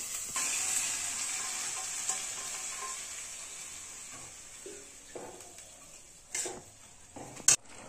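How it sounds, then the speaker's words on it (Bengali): Boiled chana dal is poured slowly into hot tempering with the gas turned off, producing a soft continuous sizzle that fades gradually, with a few light clinks of utensils and a sharp clatter near the end. "এইবার আমি এই যে ছোলার ডাল সেদ্ধটা, এটা আস্তে আস্তে এর মধ্যে ঢেলে দেবো।"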